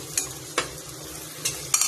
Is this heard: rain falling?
no